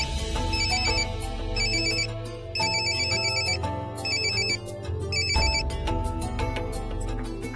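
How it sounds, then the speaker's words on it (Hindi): A telephone rings on and on with no one picking up, its repeated electronic ring bursts sounding in steady cycles over a loud musical backing, with no voices. "फोन तो लग गया है साहब, मगर उठा नहीं रहे हैं"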